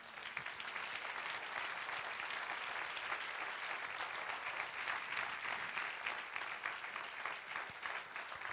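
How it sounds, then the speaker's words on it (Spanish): A church congregation claps steadily and evenly for the full stretch, a dense, sustained wash of hand claps at moderate, distant level with no voices standing out. "Dar un aplauso al Señor"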